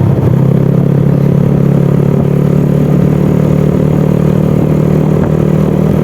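A motorcycle engine with a newly fitted valve runs steadily throughout, a loud, close, even mechanical drone with light clatter and no voices.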